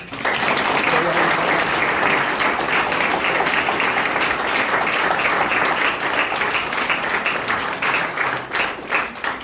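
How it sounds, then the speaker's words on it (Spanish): A church congregation breaks into sustained applause, dense and loud clapping that fills the room steadily for the whole stretch, with a voice faintly audible beneath it. "¿Puede darle un aplauso al Señor?"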